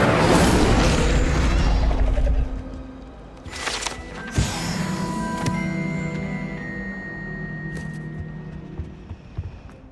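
A fire spell is cast in Hogwarts Legacy, with a loud whooshing burst followed by a crackling, booming flare and game effects ringing out over a steady rumbling background.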